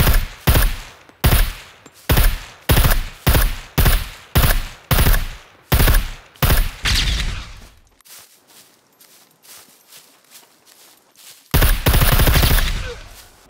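Gunfire in the survival video game Scum: a rapid run of about a dozen loud, close shots at a steady rhythm, a quiet gap, then a final sustained burst.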